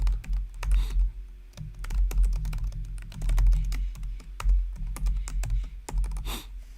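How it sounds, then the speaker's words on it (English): Keys clatter on a computer keyboard during a live broker compensation session, in a steady run of quick, close clicks with brief pauses, no voices. "I'm gonna type this."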